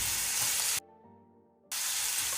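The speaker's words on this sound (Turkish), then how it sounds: "Sarımsaklarım sarardığı anda hemen soğanlar oyunun içine." Onions and garlic sizzle loudly in a hot pan, the frying cut off briefly by a quiet pause before the crackling hiss resumes.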